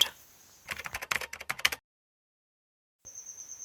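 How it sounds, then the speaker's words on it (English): Typing on a computer keyboard while entering an email password, a quick burst of close, crisp key clicks lasting about a second, then silence, then a steady high-pitched tone. "Here I am typing my Gmail password and confirm password."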